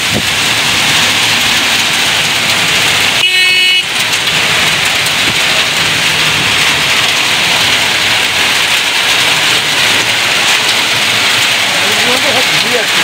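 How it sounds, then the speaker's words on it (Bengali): Steady heavy rain drumming close by during a storm with lightning and gusty wind, a dense hiss filling the whole stretch, with a brief muffled dip partway through. "আরও বৃষ্টিটা জোরে এসছে আর বিদ্যুৎ চমকা হচ্ছে, ঝমঝম করে বৃষ্টি হচ্ছে।"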